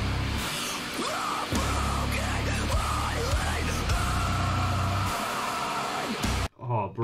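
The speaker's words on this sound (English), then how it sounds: "the pullback on the guitars" Heavy, distorted metal guitars and pounding drums in a breakdown of a song, dense and loud, with short stops and stabs before the music cuts off near the end.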